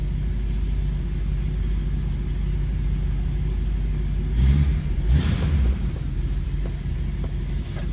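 A 1966 Ford Mustang coupe's 289 V8 idling with a stock exhaust shortly after a cold start, a steady low rumble close by, with a brief blip of revs midway before settling back to idle.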